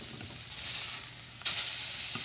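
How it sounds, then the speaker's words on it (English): Burgers sizzling in a frying pan, a steady close hiss that jumps louder at the moment they are flipped, then continues frying. "I think our burgers are ready to flip"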